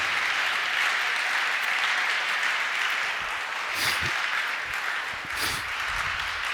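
A church congregation claps steadily together in sustained applause, with a few sharper bursts standing out near the end.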